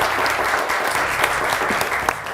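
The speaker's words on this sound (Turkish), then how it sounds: "Hocam size bir alkış daha göndereceğim." Studio audience applause on a Turkish TV word-game show, a steady continuous wash of clapping filling the whole stretch at close range with no talk over it.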